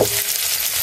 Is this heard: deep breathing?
no